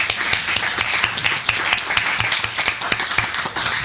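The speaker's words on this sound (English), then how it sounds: "A round of applause for David." An audience at a debate on whether God exists claps steadily, a dense and fairly loud round of applause filling the hall throughout.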